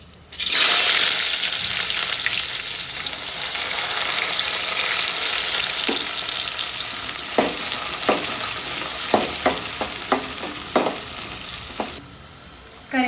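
Ingredients sizzle and fry in hot oil in a pan for dhaba-style egg rice, a steady loud hiss broken by a run of sharp stirring clatters toward the end, with no talking.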